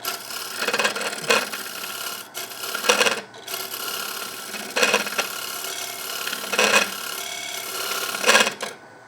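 Hand tool scraping out the hollow interior of a wooden water bottle on a lathe, giving a series of rasping strokes in bursts of about a second, close and fairly loud, with short pauses between.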